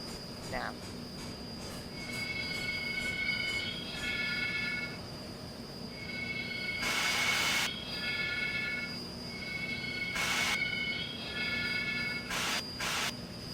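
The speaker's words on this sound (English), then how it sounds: "I love that brake squeal sound." A Norfolk and Western J class model train from K&L Trains squeals as its brakes bite, with repeated high, thin metallic squeals over a low running rumble and short bursts of hiss between them.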